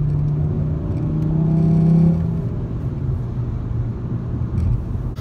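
A car engine revs up, rising to a strained whine before settling back to a steady rumbling drone, heard close from inside the vehicle with no talk.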